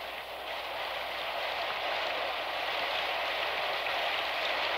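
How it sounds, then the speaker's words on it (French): Heavy pouring rain falls as a dense, continuous hiss, steady and fairly loud throughout, with no other sounds standing out. "Ma pauvre petite Claire, perdue sous cette pluie diluvienne, elle doit être trempée de la tête aux pieds."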